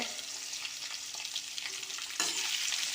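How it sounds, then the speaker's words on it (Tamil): Garlic, onion and green chillies fry in a pan for raw mango chutney, a steady close hiss of sizzling oil that swells louder near the end, with no talking. "மிளகாய் நல்லா வறுத்து வரணுங்க சட்னிக்கு ஃப்ளேவராக இருக்கும்"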